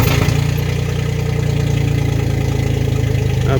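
A 1972–93 Dodge D150 pickup engine idles after a very cold start, a loud, close, steady low rumble with an even rhythmic pulse and a slight rough lope, no voices over it.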